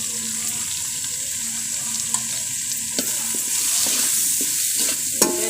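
Chili powder, coriander powder and turmeric sizzle and crackle in a hot pan for sambar, with occasional clicks of a spoon stirring and a faint steady hiss underneath.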